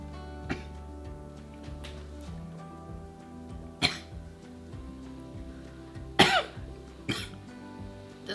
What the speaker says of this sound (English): Despite my coughing